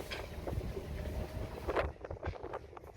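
Strong wind outdoors at Marina del Rey buffets the microphone in low, uneven gusts, faint and rumbling throughout.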